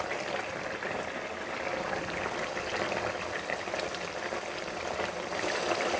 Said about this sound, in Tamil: கொஞ்ச நேரம் கொதிக்கட்டும்.